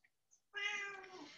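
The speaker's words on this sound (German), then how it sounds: "Meine Katze miaut." A single cat meows once, a clear, drawn-out tonal call heard close and fairly quiet after a brief silence.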